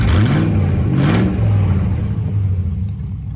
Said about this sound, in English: Just put my Bullshizen exhaust on it